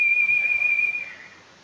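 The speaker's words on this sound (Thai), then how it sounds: "เสียงคนผิวปาก" Blues (Proto Man) whistles a single long, clear, steady note in Rockman 7, loud and close, fading out after about a second.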